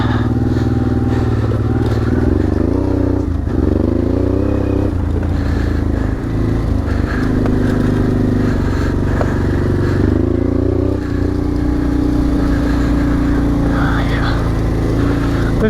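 Honda Transalp XL600V motorcycle riding at speed on an open road, a steady loud engine drone with shifting pitch and wind rush throughout, close and continuous.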